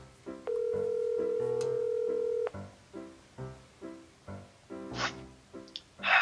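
A cellphone places a call: a steady dial tone sounds for two seconds, then a regular series of short, repeating ringback pulses plays at a close, even pace.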